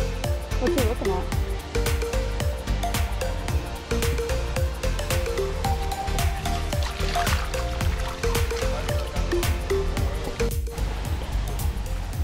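Creek water at Lawn Hill National Park rushes and trickles steadily, a broad continuous wash close by, with people talking over it throughout.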